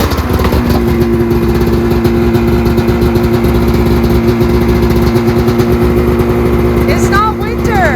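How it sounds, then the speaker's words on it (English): A snowmobile engine runs loud and close at a steady idle, a throbbing motor drone with a constant pitch that holds for several seconds before a brief dip near the end. "So, snowmobile set, we fired it up."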